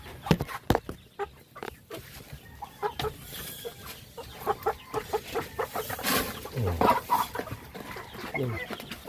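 Chicks cluck and peep busily while being fed, a dense run of short calls and scratching close by, with a person speaking now and then over the flock.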